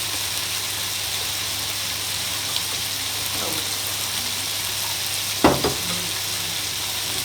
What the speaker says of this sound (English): give it another whisk because by now, yep, the cheese has settled against the bottom